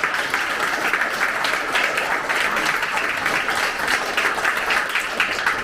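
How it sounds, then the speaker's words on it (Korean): A crowd at a campaign committee dissolution ceremony in Incheon applauds local council members, dense continuous clapping holding at an even level, with faint voices underneath. "우리 기초의원님들 큰 박수 한번 주세요."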